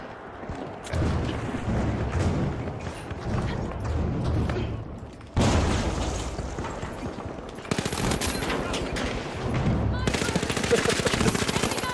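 During a StarCraft 2 match, grenade launcher fire mixes with a steady rattle of gunfire, giving dense, near bursts and thumps that run without pause, with voices talking faintly underneath.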